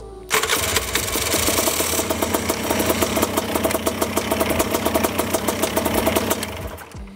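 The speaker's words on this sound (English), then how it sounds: "The engine still runs just fine with the master switch off." A Fly Products Premier ultralight trike engine starts up and runs loudly nearby with a rapid, rattling pulse, still running with the master switch off, then winds down at the end.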